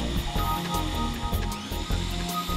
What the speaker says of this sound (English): Run the pump until the air is purged from the system.